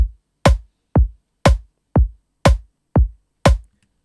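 Electronic drum pattern from a rotating rhythm generator: punchy kicks alternate with crisp snare hits offset onto beats 2 and 4, a steady, evenly spaced groove of eight strong hits, loud and dry with nothing else playing.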